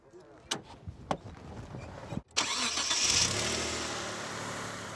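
Mitsubishi 3000GT engine starting: a few clicks and brief starter noise, then the engine fires and settles into a steady, close idle with a slight initial rev, heard alone without talk.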